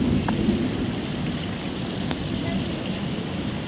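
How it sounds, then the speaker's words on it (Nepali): Hail and rain pelt down together in the hills of North Sikkim, giving a steady dense patter with scattered sharper hits and a low rumble, while a faint voice is briefly heard. "असिना परेको है अम्मो"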